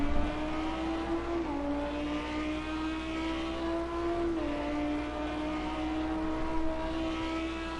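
GT3 race cars circulate at Monza, a sustained engine drone with pitch dips at gear changes and several cars audible in close company, heard at steady medium distance with no talk.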